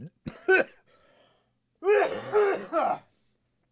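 A few short, harsh vocal bursts like coughing and throat clearing, separated by brief silences.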